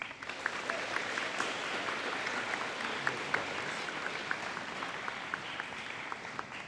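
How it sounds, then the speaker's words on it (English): An audience applauds coaches at an athletics awards ceremony, a dense, even wash of clapping from a large indoor crowd that holds steady throughout, with a few sharper individual claps standing out and no voices on top. "I think they deserve a round of applause"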